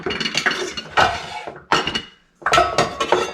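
Aluminium parts of a Trangia camping cook set, including the windshield and base, clink and clatter as they are handled, in several short metallic bursts separated by brief pauses.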